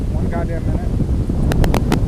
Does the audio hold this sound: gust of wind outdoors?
yes